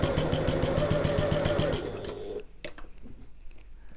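A sewing machine stitching through both sides of a tote bag strap tab, a fast, even mechanical chatter for about two seconds, then slowing into a few separate clunks and taps as the stitching stops.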